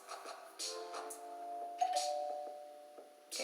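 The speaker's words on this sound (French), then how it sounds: "J'ai la sonnette." A doorbell chimes in a home with several clear, ringing tones that sustain and overlap, followed by fainter repeats and another strike at the end, fairly quiet overall.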